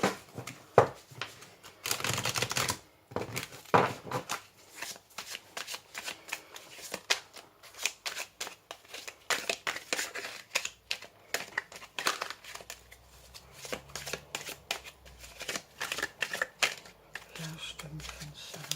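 Tarot or oracle cards are shuffled again and again near the microphone, in bursts of riffling, slapping and papery crinkle, with brief pauses between rounds and a French-speaking voice talking in places.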